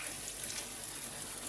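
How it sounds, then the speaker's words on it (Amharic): Boiling water poured steadily into a pot of rice while making Emirati machboos, a close, continuous rushing pour with no break and no talking. "አሁን ውሃ አረግበታለሁ።"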